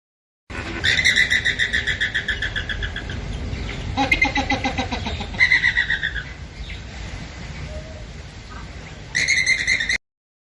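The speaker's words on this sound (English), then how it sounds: "Yes, it's a flamingo." Flamingos call in a flock, with loud nasal honking bursts in quick rapid pulses, some overlapping and fading, followed by a final strong burst after a quieter stretch.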